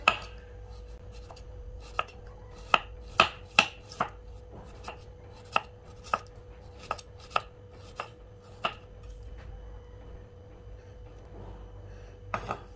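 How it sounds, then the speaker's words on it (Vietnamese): A knife slicing ginger into thin strands on a cutting board, crisp knocking chops in an uneven rhythm, close and distinct over a faint steady background hum, pausing briefly before a couple of final cuts. "gừng thì mình sắc sợi hoặc là mình đập nhuyễn ra nha ở đây thì mình sắc sợi cho nó rất là mảnh ha"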